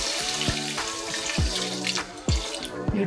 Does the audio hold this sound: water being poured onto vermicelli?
yes